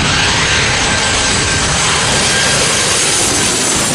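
A Delta airliner jet passing at LAX, a loud broadband roar that stays powerful and steady throughout, with no voices over it.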